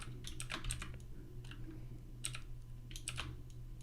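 Computer keyboard keys are tapped in quick little clusters for a software shortcut, close and crisp clicks over a faint steady hum, with no voices.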